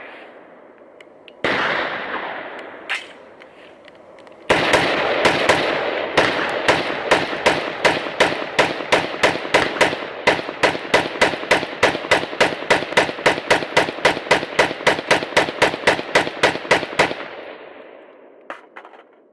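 Noveske rifle fires M855 ball from a 40-round PMag and a USGI magazine in a torture test: a couple of separate loud shots, then a long, fast, steady string of close, sharp reports lasting about twelve seconds before stopping.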